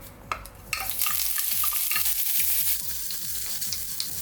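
Ginger and curry leaves sizzle and fry in a hot pan for a yam-in-yogurt kichadi, with loud steady frying hiss and repeated rhythmic scraping strokes of stirring, no voices.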